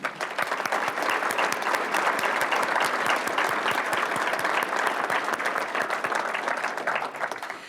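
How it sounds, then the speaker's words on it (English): An audience at a police department awards ceremony breaks into steady, dense applause that holds at an even level for several seconds before tapering slightly, with no voices over it. "let's please give them a round of applause"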